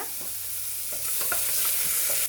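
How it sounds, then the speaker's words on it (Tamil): Onion and tomato sautéing in a pan for chicken salna, a steady close sizzle broken by several scraping stirs of the spatula, with no voices. "இது நல்லா வதக்கி விட்டுருங்க"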